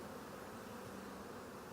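Honey bees buzz steadily inside an open wine barrel hive that is getting ready to swarm, a faint, dense and continuous hum with no break.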